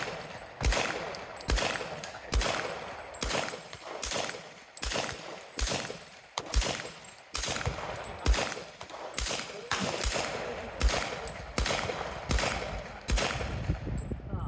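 Tommy gun firing .45 rounds at a local outdoor shooting range, with loud, sharp shots repeating in steady bursts and single cracks across the whole stretch, some echo trailing each report.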